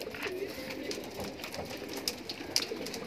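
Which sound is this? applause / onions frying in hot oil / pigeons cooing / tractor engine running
pigeons cooing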